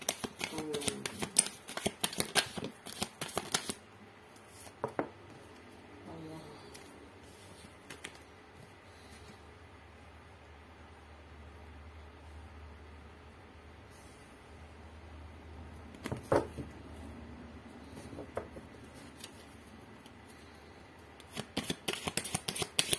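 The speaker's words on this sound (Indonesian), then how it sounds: "aku akan ambil 10 kartu pastinya ya untuk sifat-sifatnya" Tarot cards are shuffled and handled in quick bursts of crisp riffling at the start and the end. A long, quieter stretch of faint card sounds lies between them.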